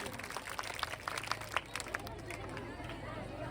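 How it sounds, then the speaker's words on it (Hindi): Students and staff at a high school Independence Day celebration applaud a computer teacher. The scattered claps sit within a noisy, murmuring crowd. "इनके लिए जोरदार ताली।"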